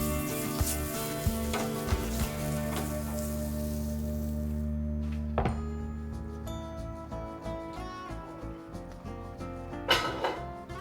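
Blanched beans tipped into a pan of carrots raise a loud, steady sizzle of frying, with stirring clatter and a few sharp utensil knocks, close up and without talk.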